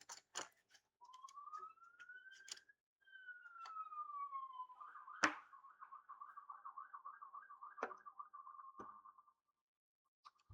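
An ambulance siren wails with rising and falling sweeps, then shifts into a fast steady warble, with scattered sharp clicks and ticks around it.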